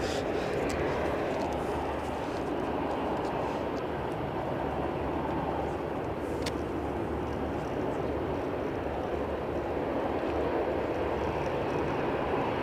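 A Lufthansa airliner arriving from Frankfurt at Edinburgh airport in wet, gusty crosswind weather: a steady, loud broadband engine roar that holds for the whole stretch, with wind and rain noise mixed in and no talk.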